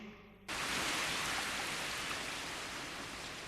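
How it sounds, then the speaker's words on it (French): Steady, heavy rain pours down after a quiet start, a dense, even hiss of falling drops that stays close and loud throughout. "il attend peut-être que la pluie s'arrête"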